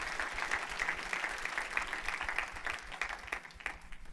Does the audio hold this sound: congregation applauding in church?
yes